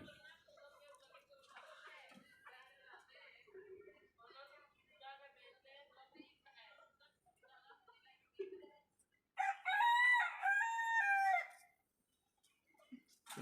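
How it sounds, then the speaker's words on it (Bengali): A rooster crows loudly and clearly near the end, following a stretch of a person speaking in a quiet indoor poultry setting. "আসলে মোরগের ডাক শুনতে ভালোই লাগে।"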